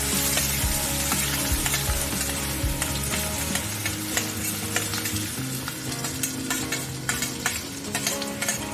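Chopped onion and green chili with black cumin seeds fry in hot oil in a pan while being stirred, a steady close sizzle broken by frequent scraping and clinking strokes of the spoon, with no talk.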